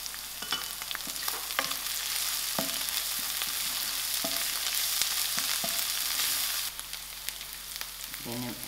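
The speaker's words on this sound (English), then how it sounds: "My onions are done. I'm adding in my green chilies and curry leaf." Green chilies and curry leaves frying with onions in hot oil, a loud continuous sizzle with occasional stirring knocks, the hiss dropping slightly toward the end.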